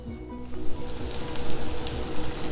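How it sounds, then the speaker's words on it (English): Breadcrumb-coated vegetable cutlets shallow frying in oil in a pan, a dense steady crackling sizzle with small pops, close and continuous without speech. "put it in the pan with oil in it, and we need to shallow fry it now"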